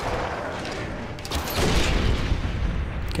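Explosions in Far Cry 4 gameplay, a dense continuous wash of booms and crackling blasts swelling louder partway through, heard without talk.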